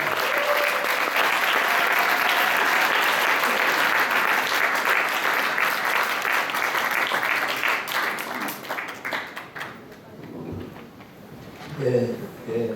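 Audience applause at a basic income movement gathering, welcoming guest speakers who will read a declaration; sustained, dense clapping from a crowd that tapers off into scattered claps and room noise.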